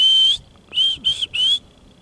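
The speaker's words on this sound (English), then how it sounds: "When they see danger, that's what they do. They whistle at each other." Prairie dogs give shrill warning whistles outdoors: one long call, then three quick clipped calls in a row, clear and fairly close.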